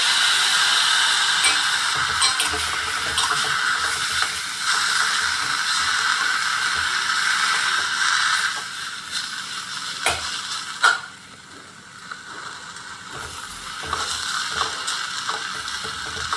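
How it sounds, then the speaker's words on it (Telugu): Eggplant curry stirred in a pan over heat, a continuous sizzle with scraping and clinking of the spoon against the pan, steady and close with no talking. "మీకు నేను కలుపుతున్నది సౌండ్ వినిపించాలని మాట్లాడకుండా చూపిస్తున్నాను"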